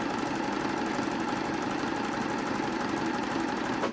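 A sewing machine runs steadily while sewing a slow stretch stitch on jersey fabric for a raglan top, a continuous close mechanical whir with a fast, even rattling pulse that holds for the whole stretch and then stops abruptly.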